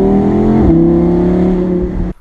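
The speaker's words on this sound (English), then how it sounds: "Put your foot on the brake, press the start, put it into drive, and away you go." Audi R8 5.2 V10 Spyder, a 2017 model, pulls away with a loud, close engine note that steps up in pitch as it shifts, then cuts off abruptly near the end.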